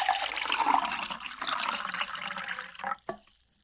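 Water pours from a flask in a steady splashing stream for nearly three seconds, then stops with a couple of final drips, close and moderately loud.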